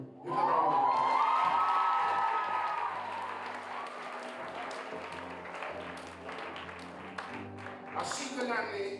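A crowd at a school awards ceremony claps loudly and steadily for award winners, with a few cheers and whoops mixed in as the applause slowly fades and swells again.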